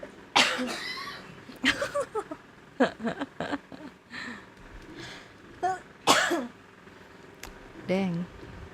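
A person coughs several times close to the microphone in sharp, irregular bursts spread over several seconds, mixed with brief throat and vocal sounds.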